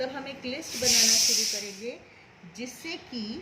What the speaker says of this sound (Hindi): सॉरी, कुकर की सीटी की आवाज़ को इग्नोर कीजिए